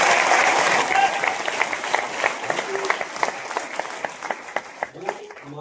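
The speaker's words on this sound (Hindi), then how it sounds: "देखिए, उनके लिए तालियां तो थोड़ा जोर से बजानी पड़ेगी।" A crowd applauds at a speaking event, starting as a dense wash of clapping that thins into scattered individual claps while a voice speaks faintly underneath.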